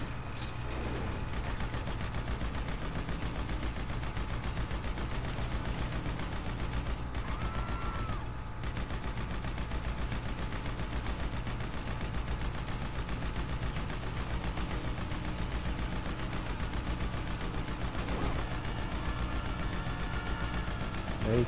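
Constant gunfire rattles through a GTA 5 video game scene, with dense overlapping shots and bursts continuing steadily for the whole stretch at a loud, even level.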